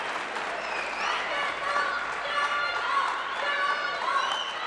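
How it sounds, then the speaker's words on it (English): Crowd noise at the 2023 ITTF World Championships men's singles quarterfinal table tennis match, Fan Zhendong vs Omar Assar, with sustained cheering and applause from a large indoor audience, steady and fairly loud throughout. "Roar from the crowd."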